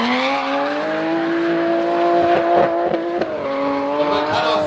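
Race car driving through the Sachskurve at Hockenheimring, its engine holding a loud, steady high-pitched drone with small shifts in revs as it takes the corner, close and prominent.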